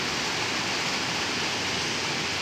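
Rising river water rushes steadily through a floodway during Typhoon Enteng, a dense, continuous broadband roar with no pauses, close and even throughout.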